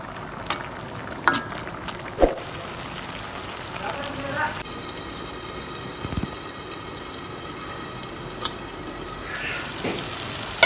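Small silver fish fry with cumin in a pan, making a continuous soft sizzle dotted with sharp spits and pops. A voice talks intermittently over the frying.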